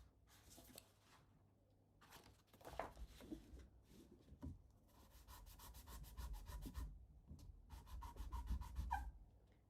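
Sandpaper rubbing across a hand-carved stamp in short, close scratchy strokes, with pauses between bursts and a faster rhythmic run of sanding toward the end.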